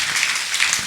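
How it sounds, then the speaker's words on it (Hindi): Brief burst of loud, dense clapping from a youth convention crowd fills the whole second. "जोर से ताली बजा करके हम"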